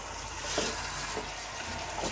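Mutton frying in a pressure cooker for shahi korma, a soft steady sizzle with faint stirring scrapes recurring every half second or so, fairly quiet and close.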